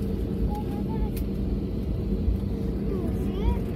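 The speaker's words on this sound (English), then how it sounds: "Ooh, a plane is landing." A Frontier airplane lands at San Juan airport, heard as a distant low rumble beneath continuous road noise from a moving car, with people talking nearby.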